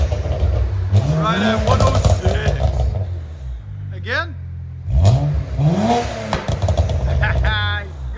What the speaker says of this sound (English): Got that distinctive BMW pop.